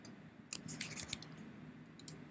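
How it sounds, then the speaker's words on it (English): Quick computer mouse clicks while rigging a character with a bone tool in animation software, a few soft, close, sharp ticks in a short cluster, then one more after a pause, very quiet and without talk. "Clicking it."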